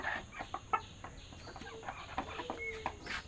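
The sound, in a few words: chickens clucking in a coop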